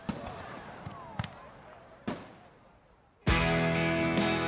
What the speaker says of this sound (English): I did add fireworks in the beginning for the original track.